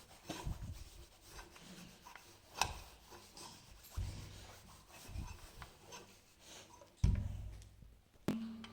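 An iron is pressed and slid across a dress in quiet rubbing strokes, with several soft thuds as it is set down or shifted. Each thud is followed by a brief scraping glide, close and fairly faint, with no talk.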